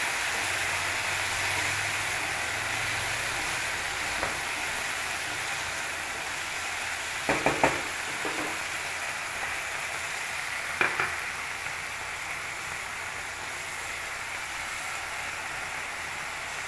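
Green chillies sizzle and fry steadily in oil in a pan for a mint chutney, a constant hiss with a few brief scraping stirs partway through, close and alone.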